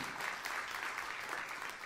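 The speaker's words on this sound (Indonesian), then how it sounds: "tepuk tangan yang meriah untuk kemuliaan nama Tuhan" Church congregation clapping during a sermon, a dense continuous patter of many hands sustained evenly for a couple of seconds with no voices over it.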